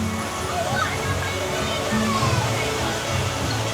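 A waterfall at EPCOT sends a steady, full rushing wash of falling water throughout, with a murmur of nearby voices mixed into the spray.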